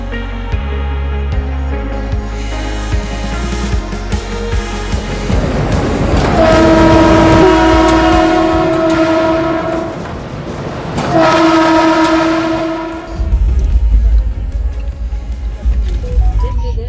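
A moving train interior in Uttar Pradesh, with a steady low rumble of the carriage, loud and continuous, swelling into two long horn blasts in the middle before the running noise returns.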